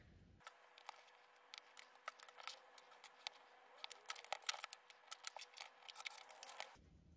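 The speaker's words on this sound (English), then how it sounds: "I'm just going to trim that to size" Scissors snip and trim paper to size for a craft box cover, a steady run of quick close crisp cuts with small gaps, alone and fairly quiet.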